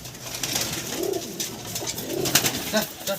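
Male pigeons at a loft coo in repeated soft, throaty rolls, fairly close, over a light outdoor bustle.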